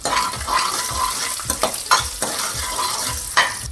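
Peanuts, chana dal, garlic, ginger and green and red chillies frying in a pan, with a crisp close sizzle broken by repeated sharp scrapes and clinks of a spoon stirring against the metal.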